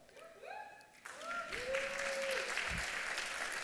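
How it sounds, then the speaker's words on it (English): Audience applause at an outdoor garden party for a law and poverty advocacy group, building into a steady round of clapping after a few brief tonal sounds, with faint voices at the start. "Yeah, everybody clap for that."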